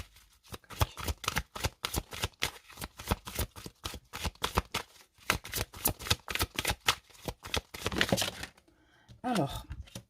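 Tarot or oracle cards are shuffled close up in a rapid, steady riffle of crisp flicks that lasts several seconds. The sound ends with a few soft slides and taps as the deck settles.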